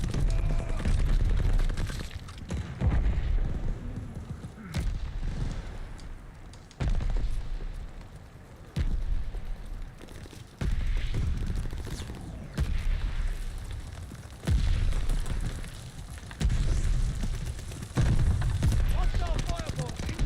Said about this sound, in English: They're sending mortar shells.